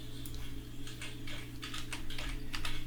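Keys on a computer keyboard tap in quick, irregular bursts close by, soft and light against a steady low hum.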